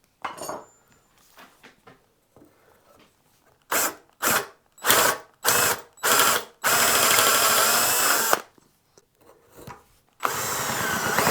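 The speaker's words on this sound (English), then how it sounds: "Forstner bit, about 6mm. I think I need to go in just so that we can properly recess in this adjuster wheel." Bursts of a power drill driving a 20mm Forstner bit into the wood of a Telecaster-style guitar neck to recess the truss rod adjuster wheel: several short whirring runs, then two longer continuous passes, close and loud, with quiet handling noises between.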